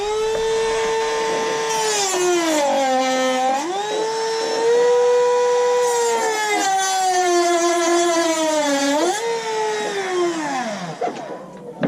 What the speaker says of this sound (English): I'm going to use a Dremel and I'll show you how quickly and easy that is to take out